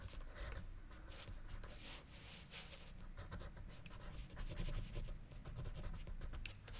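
Pencil sketching on paper, laying out a cabinet, a chair's shoulder and back for a painting composition: steady close scratchy strokes, continuous rubbing with short rhythmic pulses, no voices.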